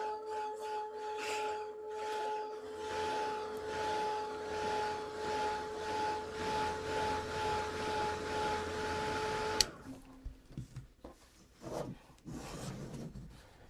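A dryer blows a steady, whooshing drone with a faint tonal hum while drying a watercolor painting, running for about ten seconds and then clicking off, leaving quiet brush and paper handling sounds.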